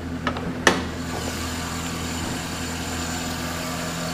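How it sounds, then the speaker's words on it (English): A 2013 Chevy Silverado Z71 truck's V8 engine idles in a steady, smooth low rumble nearby, with a couple of faint clicks near the start. "And a nice V8 engine."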